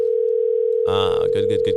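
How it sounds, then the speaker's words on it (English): A telephone call rings out on the line while waiting for someone to pick up: a steady, loud electronic tone runs throughout, with voices talking over it during the second half. "let's just see if this gentleman picks up the phone"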